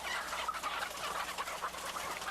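Laying hens, Highline breed, clucking in a manual cage barn on an egg farm, with several birds overlapping in a dense, continuous chorus of short clucks and squawks.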